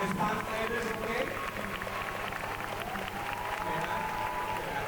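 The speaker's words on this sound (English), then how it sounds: "please give a big round of applause" Audience applause at a motivational business strategy talk, a steady wash of many hands clapping that holds at an even level for several seconds, with faint voices mixed in beneath it.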